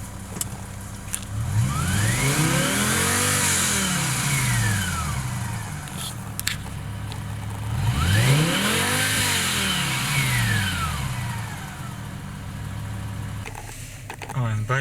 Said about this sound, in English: I will give it a few revs.